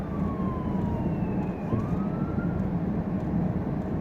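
A distant ambulance siren wails with slowly gliding pitch over loud, steady traffic rumble, fading and rising as it passes.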